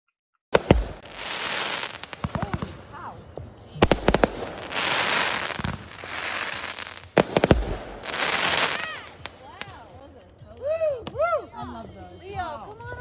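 Fireworks exploding outdoors in a series of loud sharp bangs, each followed by a long crackling burst, with whistling and smaller pops near the end.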